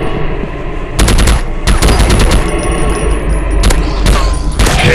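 Rapid gunfire from a zombie shooting game on Android plays loud and constant, with dense bursts of automatic shots and booming hits that keep going throughout.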